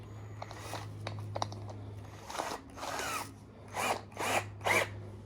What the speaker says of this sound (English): a hex shank that I can chuck into my drill